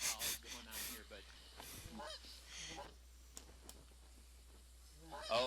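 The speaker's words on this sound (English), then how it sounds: "So we must have geese flying in" Canada geese in the hunting game theHunter 2015 honk in several quick, nasal calls, fairly faint and distant, over a low steady hum, with a few more honks at the end.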